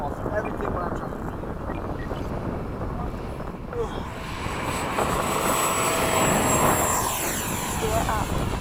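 An E-flite 80mm EDF F/A-18D model jet flies past at high speed, its loud, steady ducted-fan roar swelling midway and carrying on with wind buffeting the microphone.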